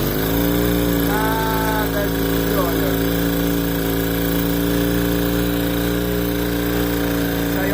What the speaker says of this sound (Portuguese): a moto ligada aí